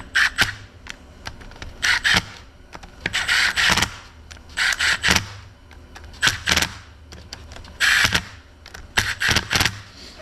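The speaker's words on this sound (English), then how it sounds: "I'm going to run these down with the tool on the lowest setting" Power tool on its lowest setting running down bolts on a Johnson Iron Horse X-401 engine, a series of short whirring bursts of about a second each, separated by brief pauses, close and fairly loud.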